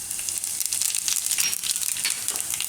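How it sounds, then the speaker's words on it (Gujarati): Cumin seeds sizzling in hot oil for a Gujarati farali mixed-veg moraiyo, a dense, bright crackling fry that stays steady and close throughout with no talking. "અને તેલ આપણું ગરમ થઈ ગયું છે. તો એમાં પહેલાં જીરું નાખીશું"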